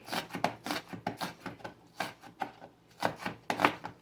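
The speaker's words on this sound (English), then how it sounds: "so let's just give it a chop" Food for salmon patties is chopped on a board, with a steady series of quiet knife taps coming at an uneven rhythm, close by and with nothing else over them.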